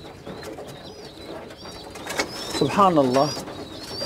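Pigeons coo softly in a loft, with a clear close coo rolling out near the end among faint background calls and shuffling, while someone speaks briefly.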